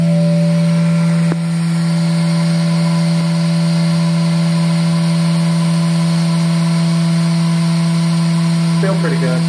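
The spindle of a 2014 Haas VF-6SS 4-axis CNC vertical mill with a Haas HRT 210 rotary table runs up at about 10,000 RPM, giving a loud, steady tonal whine with a brief click early on.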